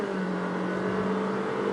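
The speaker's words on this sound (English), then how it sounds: "So it's like if I accelerate, that's what you will hear." A Honda WR-V's engine accelerating, a steady, sustained drone holding a near-constant tone, heard from inside the car with no talking.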